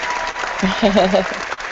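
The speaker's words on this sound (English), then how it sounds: "I give myself a hand clap." A single person's hand clapping in a live online chat, sounding as a steady, noisy patter under a brief voice in the middle.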